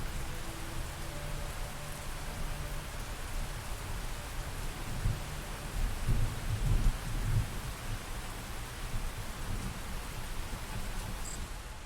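Steady heavy rain in the mech strategy game Phantom Brigade, with a low rumble of thunder swelling near the middle, a continuous hiss filling the whole stretch without talk.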